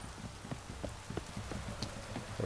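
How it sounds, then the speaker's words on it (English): Steady patter of rain in The Witcher 3 video game falling on surfaces, with scattered louder drops and splashes, continuous and moderately soft throughout. "Looks like rain."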